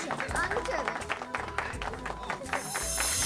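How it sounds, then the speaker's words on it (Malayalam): Audience clapping during an Onam special television show in Kerala, a steady burst of applause with crowd noise, partly mixed with music and background voices. "അപ്പം എല്ലാവരും നല്ലൊരു കയ്യടി കൊടുത്തേ"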